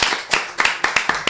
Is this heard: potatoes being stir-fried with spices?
no